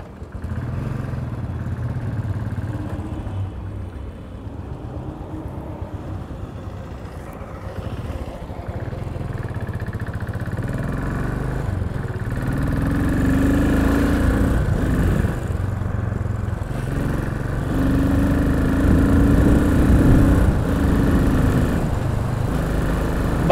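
A Royal Enfield Continental GT motorcycle engine hums steadily while riding, with a low rumbling drone and wind noise that grows slightly louder toward the end.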